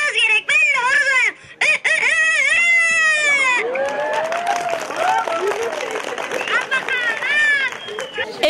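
A person imitates a rooster crowing at an outdoor children's festival event, belting out several long, warbling cock-a-doodle-doo calls in succession, loud and close, with a crowd cheering and reacting behind.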